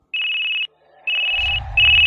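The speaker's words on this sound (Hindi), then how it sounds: "विशाल ये सब सोच ही रहा होता है कि तभी मोबाइल पर उसकी मम्मी का कॉल आता है।" A mobile phone rings with an incoming call, a bright electronic ringtone repeating in short bursts, loud and close, with a low rumble joining toward the end.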